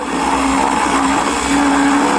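A blender mixing ice cream and pungent cheese whirs steadily and loudly throughout, its motor pitch wavering slightly as the contents churn, with no voices.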